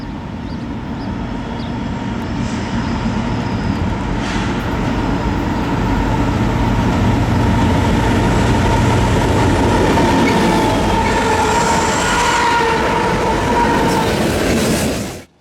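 An eastbound freight train led by a Union Pacific SD70M locomotive rolls past steadily and loudly, with continuous wheel and rail rumble, clickety-clack over the joints and a faint high squeal near the end.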